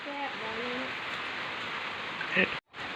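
Heavy rain pours steadily over rice fields during harvest, a dense hiss of falling drops with faint bird calls and a brief voice-like tone early, a quiet break near the end.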